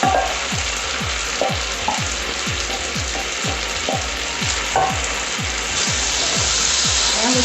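Onions frying as they are stirred into a simmering beef sauce: a loud, continuous sizzle with a steady series of soft, rhythmic thumps from the stirring, close up.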